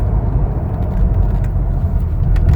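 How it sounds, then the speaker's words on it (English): A 2016 Toyota Tacoma Double Cab pickup slowing under braking, heard from inside as a loud, steady low road and engine rumble with no sharp squeal. "And check the brakes here really quick."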